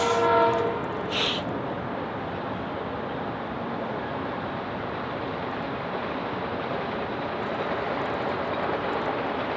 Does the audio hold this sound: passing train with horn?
yes